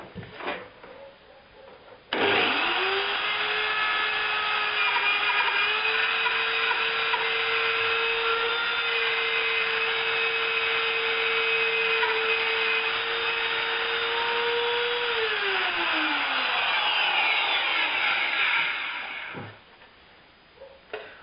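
A spiral router bit cuts through pine, a loud steady high whine with a lower tone that holds through the pass and drops as the cut ends, with a short spin-up at the start and wind-down at the close.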